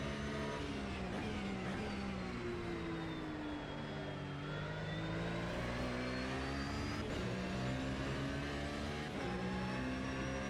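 Race car engine in the sim racing game Automobilista 2, droning loudly and steadily the whole time as revs rise and fall through the corners and under acceleration, with no pauses.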